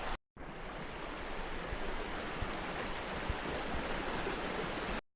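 A tiny headwater stream flowing in the bush, with a steady, close rushing and trickling wash that fills the whole stretch after a brief silent start, and no voices.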